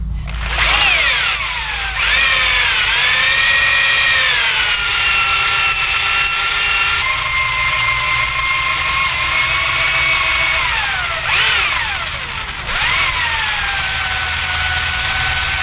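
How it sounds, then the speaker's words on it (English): Cheap cylinder hone spun by a power drill scouring a rusty, marked engine cylinder bore, a loud steady whine that dips and rises in pitch as the notchy trigger is eased, with brief slowdowns near the end. "trigger on this drill is a little notchy"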